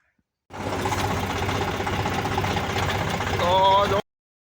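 A tractor engine runs close by in a steady, throbbing drone that starts abruptly and swells slightly louder near the end.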